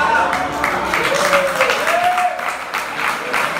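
A congregation at a church mission gathering in Mozambique applauds, with continuous clapping from the crowd, while a voice rings over it.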